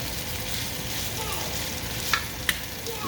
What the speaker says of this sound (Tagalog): binigisa ko muna yung mga tinatawag natin yung lamas